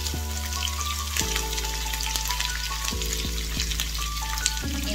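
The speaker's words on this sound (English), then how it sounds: "The garlic is brown already, guys, so we add in onions." Onions sizzle and fry in a pan with browned garlic, a steady close crackling hiss with brief stirring bumps, for chicken fajitas.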